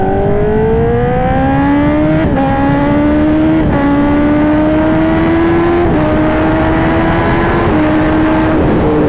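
A 2024 Kawasaki ZX10R with an SC Project exhaust pulls hard through several gears, its loud, close engine note rising steadily and dropping briefly at each of four or five upshifts, with no talk over it.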